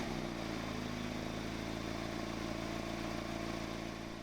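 A Mazda ND MX-5 Miata engine and exhaust drone on steadily, loud and close, with a rough, harsh, buzzy tone and no talking.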